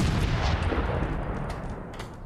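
Gunfire from the video game Fallout 4, a dense, loud burst of shots and booms that fills the whole stretch and fades slightly toward the end.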